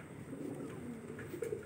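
Pigeons feeding on scattered rice, with soft low cooing and a few faint calls running steadily through the short stretch, close by and moderately quiet.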